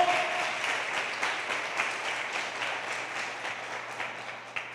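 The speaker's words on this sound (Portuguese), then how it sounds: "Pode aplaudir ao Senhor." Church congregation applauding, a steady wash of many hands clapping at moderate distance, sustained evenly for several seconds with a faint low hum underneath.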